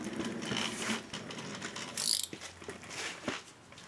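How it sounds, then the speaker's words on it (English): A geared ratchet wrench turns an upper control arm bolt on an Audi, giving bursts of quick metallic clicking with short pauses, close and fairly quiet, with no voices. "I'm going to use a 16 to hold the bolt, and a geared wrench."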